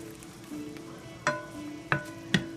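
Cream sauce with asparagus and tomatoes cooks quietly in a pan, a soft, faint bubbling with a few brief clinks or taps of a utensil, with no talk.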